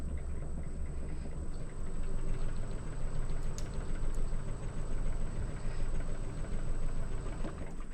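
A lathe turns a walnut bowl blank salvaged after Hurricane Helene at slow speed. A constant low machine rumble runs throughout, with a thin steady high whine above it and no talk.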